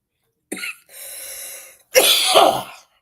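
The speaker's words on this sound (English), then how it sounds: "I'm sorry, y'all, for coughing like that in the mic." Two harsh coughs land right on a microphone, a short burst followed after a pause by a longer, louder rasping one, close and distorted, with a quieter breathy stretch between them.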